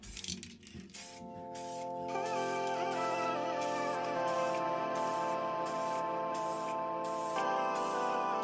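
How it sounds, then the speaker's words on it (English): A spray can hisses out clear coat onto a Mercedes-Benz 190E W201 air filter housing, a loud steady close hiss with a few brief interruptions at the start, running nearly continuously. "it's time to apply the clear coat."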